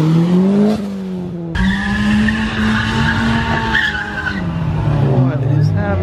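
A car engine revs hard and loud at a street car takeover meet, its pitch rising and falling, with tires squealing and skidding as it accelerates nearby.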